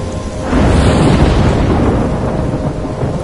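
A heavy thunderstorm in Life is Strange Remastered rolls in as a loud, sustained rumble with a dense wash of rain, swelling after a brief quieter start and holding close and continuous.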